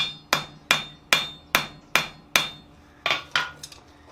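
A hammer strikes a forged drawer pull on an anvil in about nine sharp, ringing blows, evenly spaced at first and then a few quicker lighter taps near the end, close and loud with no talking.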